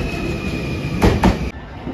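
A JR Shikoku 7200 series local train passes near Marugame on the Yosan Line, giving a steady rumble with a couple of louder rail joint thumps and a faint high whine.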